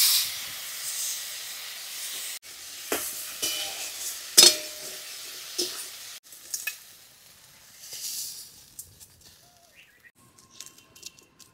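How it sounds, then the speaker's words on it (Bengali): Fish rubbed with salt and turmeric fries in hot oil, a loud close hiss and sizzle with crackling pops that settles into a softer, fading sizzle, no voices. "এবার ভেজে নেব।"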